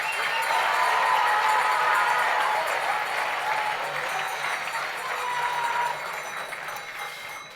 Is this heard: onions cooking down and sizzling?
no